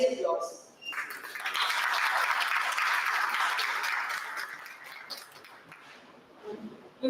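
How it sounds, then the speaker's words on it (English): An audience at a felicitation event bursts into applause, a broad sustained patter of clapping that swells quickly, holds for several seconds, then thins out while brief voices come through at the edges. "a remarkable feat that deserves our highest applause"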